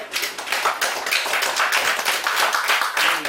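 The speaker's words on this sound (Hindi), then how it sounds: "एक जोरदार ताली बजाओ अपने लिए" A group at a boot camp claps for themselves, strong rhythmic hand clapping with individual claps audible in a fast, pulsing pattern, loud and continuous from start to finish.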